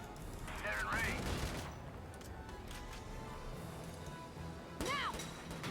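Gunfire and impacts in the tactical video game Valkyria Chronicles 4 form a dense, loud barrage throughout, with shouted voices breaking in near the start and again near the end.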